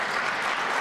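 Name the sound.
audience applause for planning department staff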